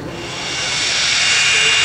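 A C-17 Globemaster III's jet engines at an air show, a loud, broad rushing hiss with a high whine that swells slightly and then holds steady.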